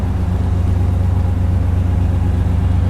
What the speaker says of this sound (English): But it sounds good. There's no rust holes in the exhaust.